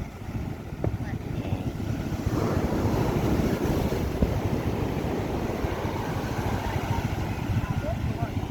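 A fishing boat's diesel inboard engine drones steadily at sea amid large waves, heavy wind buffeting the microphone and broad low rumble throughout.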